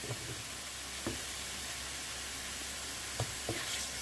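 Chicken liver (kaleji) fries in a pan, giving a steady, close sizzle with a few soft knocks where a spatula scrapes and turns the pieces.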